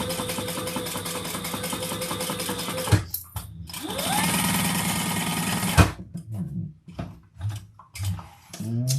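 A sewing machine stitches fabric in a steady, close mechanical whir, pauses, runs again for a stretch, then gives way to scattered handling clicks and knocks.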